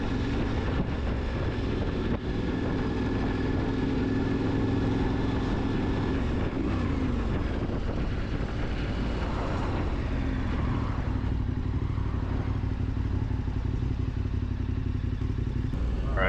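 A KTM 1290 Super Adventure R motorcycle is ridden in off-road mode on the way to gravel, giving a loud, steady engine drone with heavy wind rumble that holds throughout with slight pitch shifts.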